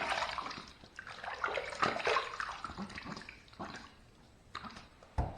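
Running water splashes steadily in a bathroom sink as a shaving razor is rinsed, a close, continuous gush with brief knocks and splashes and no talking.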